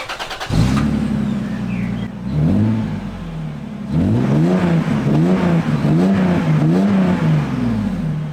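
A car's engine starts up in a home garage, then revs repeatedly in rising and falling bursts, loud and close, with no talking.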